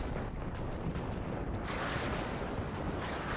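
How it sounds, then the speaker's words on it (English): Artillery fire in the video game Warno, a continuous distant rumble of blasts and booms rolling together at a low, steady level without clear separate shots. "Blue artillery working out there."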